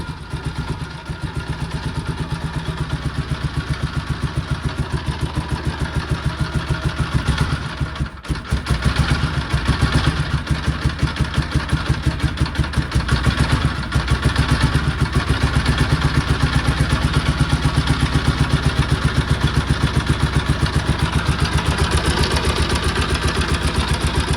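A Dnepr motorcycle engine running cold in frost, its loud, rough, rhythmic idle chugging steadily and close, with a brief stumble partway through before it settles.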